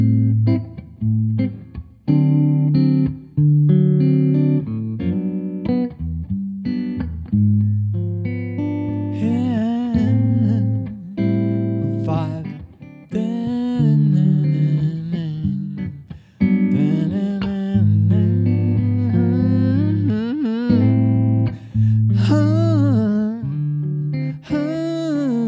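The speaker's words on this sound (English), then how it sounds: "So 2-5 progression always sounds like this." Electric guitar with effects plays a short 2-5 chord progression, strummed chords moving back and forth with some single-note fills, no talking.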